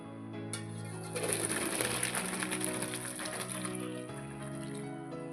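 Water drains off boiled wheat-flour food poured through a strainer in a North Karnataka home kitchen, making a steady splashing rush for about three seconds over a low tonal background hum, with no talking.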